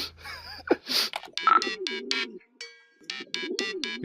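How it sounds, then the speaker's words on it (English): A pigeon in the video game Hiveswap gives a few bubbly coos amid chirpy electronic game tones and beeps, fairly close and clear. "Stupid pigeon."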